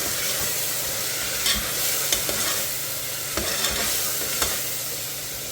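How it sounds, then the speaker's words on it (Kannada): Palav masala fries on low flame in a pan, giving a steady soft sizzle with occasional stirring scrapes and light clicks, close and continuous without talk. "ಲೋ ಫ್ಲೇಮಲ್ಲಿಟ್ಟು ಒಂದು 5 ನಿಮಿಷ ಫ್ರೈ ಮಾಡ್ಕೊಳ್ಳೋಣ"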